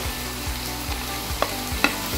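Carrots and chicken stirred in a hot pan, a continuous sizzle under rhythmic spoon scrapes sweeping roughly every half second, with a couple of sharp metallic clinks near the end.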